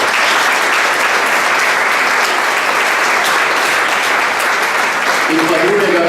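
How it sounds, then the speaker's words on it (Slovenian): An audience at a youth organisation's 27th anniversary celebration in Slovenia gives sustained, dense applause that stays loud and even from start to finish. "Tukaj se zahvaljujem predvsem Alenki, ki mislim, da si zasluži en aplavz."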